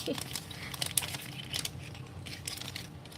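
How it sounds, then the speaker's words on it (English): Soft, irregular crinkling and rustling of a plastic bag close by, continuous with scattered sharper crackles. "Let me get it out of the plastic bag."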